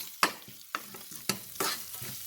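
Crushed spice mix with coriander, turmeric and asafoetida powders sautéed in a pan for rasam, with a few sharp spoon scrapes and stirs over a soft sizzle, close and moderately loud.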